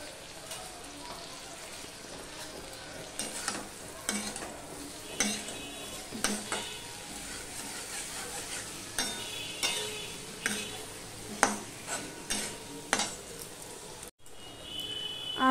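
Ginger, turmeric and tomato stirred and fried in a pan for a Bangladeshi shing fish curry: a continuous sizzle broken by repeated sharp scrapes and clinks of a spoon against the pan, each stroke rising then fading, all without talking.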